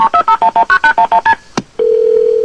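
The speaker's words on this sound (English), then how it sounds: "this 17-year-old grabbed her phone and dialed 911" A rapid run of about ten telephone keypad dialing tones in an even rhythm while placing a 911 emergency call, followed by a brief click and then a steady tone, all close and loud with no voices.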